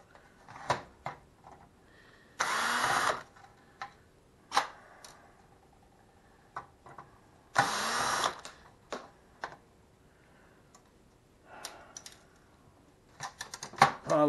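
A power screwdriver whirs in two short bursts while screws are removed from a data storage processor unit being scrapped, amid scattered clicks, taps and metal clatter from handling the hardware.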